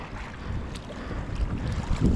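Ocean swell washes in a lagoon around a kayak on a high tide, a soft continuous wash of water mixed with wind rumble on the microphone.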